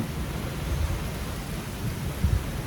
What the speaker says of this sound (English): Well, it decided to rain today.